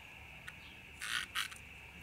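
An insect flutters its wings with a soft cricket-like buzzing, heard as a faint short burst followed by two louder raspy bursts in close succession over a quiet background with a steady high tone.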